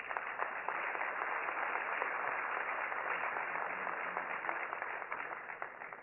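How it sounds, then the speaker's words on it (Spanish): Steady audience applause at an economic forum, many hands clapping in a continuous, even roar for about six seconds, heard fairly faint and somewhat muffled with no voices over it. "Recibamos con un fuerte aplauso"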